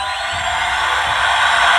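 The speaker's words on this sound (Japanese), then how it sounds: "これはハイパースペースにジャンプした時の音だね" A Star Wars Hot Wheels flight controller toy sounds its hyperspace jump effect, a loud, dense electronic rush with sweeping tones that swells steadily over nearly two seconds, with no speech over it.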